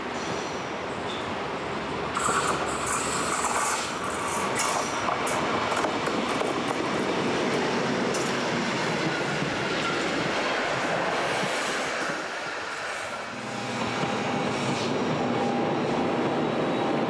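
A DR V100 diesel locomotive hauls a regional train on the line between Neumark and Greiz, its steady engine drone and rolling wheels carrying close and loud throughout, easing briefly before building again.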